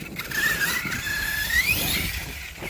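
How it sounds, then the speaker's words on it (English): Tires of a Kraton 6S RC truck squealing continuously on wet grass, a loud, steady high-pitched whine wavering in pitch over a noisy motor and spray wash, with no talking. "them tires are so loud"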